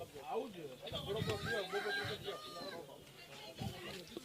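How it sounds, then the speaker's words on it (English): A rooster crows and chickens cluck close by amid an outdoor gathering, with people talking over and around the repeated calls. "even the rooster over here is agreeing"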